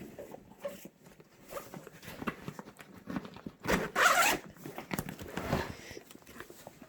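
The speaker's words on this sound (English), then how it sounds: "There's the zipper." A zipper is pulled open along the front pocket of a rifle bag for an AR-15, a close, scratchy rasp with a louder, faster burst of zipping partway through, set among softer fabric rustles and handling sounds.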